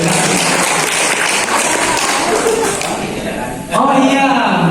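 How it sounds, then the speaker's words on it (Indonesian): An audience at a formal gathering of coordinators claps in a dense, steady burst of applause, with a voice speaking over it toward the end. "Tepuk tangan buat Aceh Dayang"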